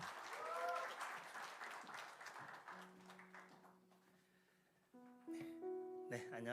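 A church congregation applauds during a Sunday worship service as a young member steps forward to give a testimony, the clapping fading under a voice and steady organ tones.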